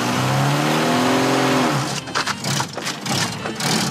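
An old car engine revs loudly up close as the driver gives it gas, a rising drone that gives way to rough, uneven sputtering and bursts of revving.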